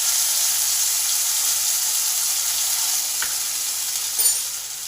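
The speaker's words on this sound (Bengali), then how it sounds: "ঠিক এই সময় আদা, ধনে আর জিরে যে বেটে রেখেছি সেই বাটা মশলাটা দিয়ে দিলাম।" Ground ginger, coriander and cumin paste fries in oil spiced with dried chillies and bay leaves, giving a loud, steady, close-up sizzle with a couple of brief clicks near the end.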